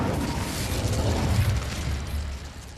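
Incendio fire spell cast in Hogwarts Legacy: a dense, roaring burst of flame with heavy low rumble that swells steadily and then tapers off over about three seconds, with no voices.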